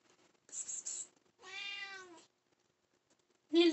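A house cat gives a few separate meows with quiet gaps between them, close and clear: two short chirps, a longer drawn-out meow, then a final call cut off at the end.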